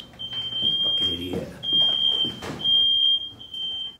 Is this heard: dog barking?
no